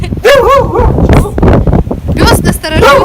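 A dog on a farm in Iceland gives short yipping, whining calls in quick bursts, close to the microphone, mixed with people talking and gusty wind buffeting.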